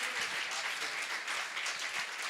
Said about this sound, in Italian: Fai un applauso a Amen, Gesù